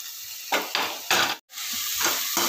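Chopped capsicum goes into onions frying in hot oil for pav bhaji, giving a loud, steady sizzle broken by scraping stirs and a brief drop-out midway.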